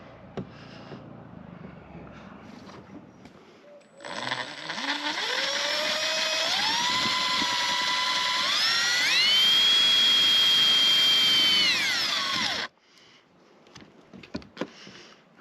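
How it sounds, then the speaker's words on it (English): A power drill pre-drills a hole while a backup camera is being installed on an RV outdoors. Its motor whine runs about eight seconds, climbing in steps to a high steady pitch before cutting off. It stands out loud above quiet surroundings. "I need to pre-drill a hole."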